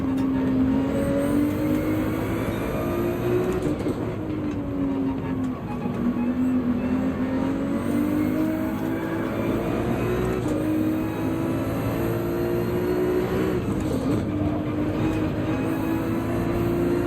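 A Porsche race car engine in Gran Turismo 7 at Deep Forest Raceway, a steady droning engine note rising and falling as the car shifts gears, with brief pitch drops near the middle and end.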